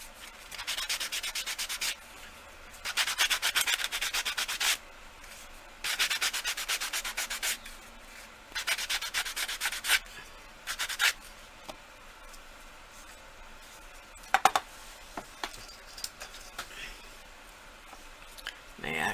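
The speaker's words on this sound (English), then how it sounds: "Needs just a bit of sanding, especially on the edges." A baked polymer clay cuff bracelet is sanded along its edges, with several bursts of close rasping strokes separated by pauses and a few light clicks.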